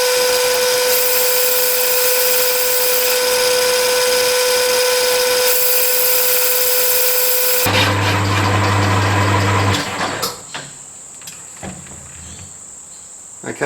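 A metal lathe runs with a loud steady whine and tonal hum while chamfering a workpiece for a Stuart Turner Number 8 mill engine, then the tone cuts off into clattering and rattling noises near the machine.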